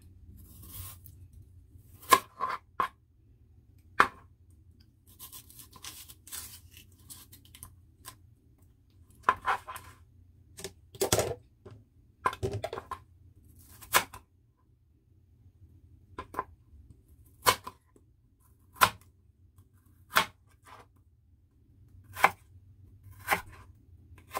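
A knife slices through chayote on a cutting board in crisp, separate chops spaced a second or two apart, with a quiet handling pause partway through.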